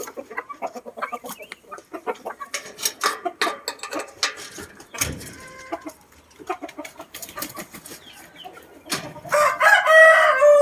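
Chickens cluck and chatter busily up close, then a young rooster's rough, wavering crow rises loudly at the end; three-month-old chicks among them.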